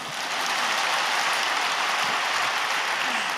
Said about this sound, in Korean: 여러분들은 지금 박수를 치지만